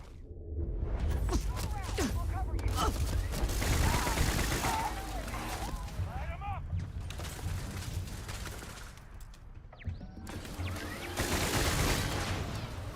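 Video game gunfire rattles in rapid bursts of shots and whooshes from a heavy-recoil weapon, fairly loud and continuous across the scene, with a voice talking at times.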